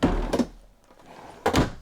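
A soft-close wooden clothes drawer in the bedroom of a 2022 Alliance Valor 40V13 toy hauler fifth wheel makes two soft, close thuds about a second apart, with a quiet pause between and no talking.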